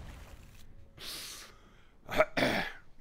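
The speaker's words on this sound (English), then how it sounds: "shouting is what causes my coughing fits" A few harsh, breathy coughs close to the mic, an early burst followed by a pair of rough hacks, with short quiet gaps between them.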